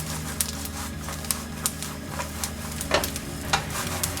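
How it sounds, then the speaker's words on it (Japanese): Shishito peppers sizzle in a frying pan, pressed down to char, giving a steady crackling hiss with a series of sharp pops and clicks scattered through the few seconds. "フライパンに押さえつけながら焦げ目をつける感じで焼きます。"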